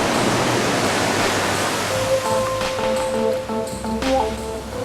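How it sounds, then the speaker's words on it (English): Ocean waves washing on a beach, a loud broadband rushing surf that fills the scene continuously, with faint tonal sounds and a voice-like murmur appearing partway through. "Can you hear the ocean waves?"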